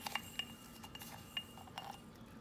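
A spoon mixing seasoning in a glass container clinks lightly several times at irregular intervals, bright and close over a soft background, without any talking.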